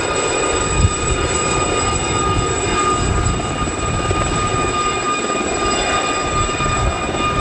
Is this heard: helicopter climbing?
yes